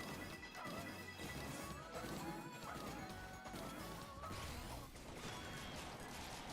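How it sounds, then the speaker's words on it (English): Repeated crashing, smashing impacts and bursts tumble over each other in a busy, chaotic stream, fairly faint overall with occasional whooshes between hits. "You can never have too many explosions."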